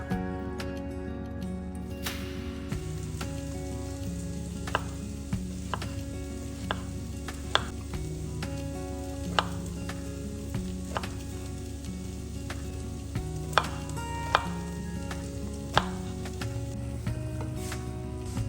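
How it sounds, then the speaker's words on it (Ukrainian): A knife chops zucchini on a cutting board in sparse, irregular taps while vegetables simmer softly in a covered pan beneath, with no talking. "а сама тим часом нарізаю кабачок"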